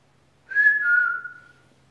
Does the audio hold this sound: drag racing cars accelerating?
no